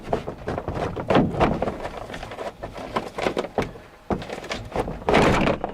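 A trim panel being popped free on the rear door of a Ford Expedition with a broken cable, heard as repeated close plastic thunks and knocks over steady rustling handling noise, with a louder pop near the end.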